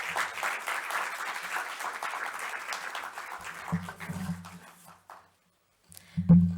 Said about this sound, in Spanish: Natalie, un aplauso,